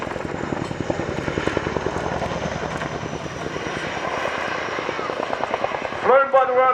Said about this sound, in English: The Chinook is now turned away to perform a 60-degree offset wingover at ground centre.